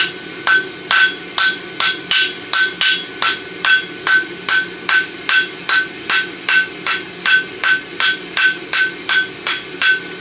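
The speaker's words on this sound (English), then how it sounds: "come over the edge of the anvil, use the round side of our hammer" A hammer strikes a steel horseshoe on an anvil in a fast, steady rhythm, about two ringing blows per second, loud and close, with no voices.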